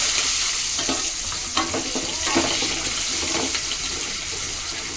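Garlic and shallots fry in oil for a fish curry, giving a steady close hiss of sizzling with scattered scraping knocks of a spoon stirring the pan throughout.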